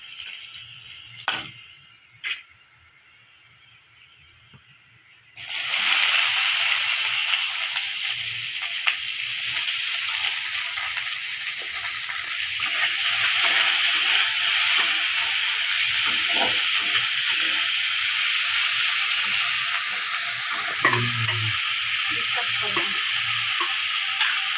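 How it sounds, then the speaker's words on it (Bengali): Garlic drops into hot oil for a fish curry, quiet at first with a few light knocks, then bursting into a loud, continuous hissing sizzle with occasional stirring scrapes, close up. "রসুনটা একটু ভাজা ভাজা হচ্ছে"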